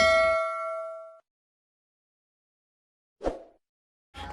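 A single bright notification bell ding rings out clearly and fades, followed by silence and then a couple of short, dull knocks.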